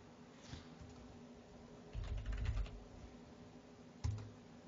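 A password is typed on a computer keyboard to log in, with soft, close key taps in short bursts, a louder cluster in the middle and a final few presses, under a low steady hum and no talking.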